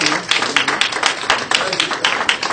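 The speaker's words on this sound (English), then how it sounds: "Let us give the king a warm round of applause" A crowd applauds for the king at a Yoruba royal gathering in Lagos, with dense, steady clapping that swells and pulses throughout, loud and close.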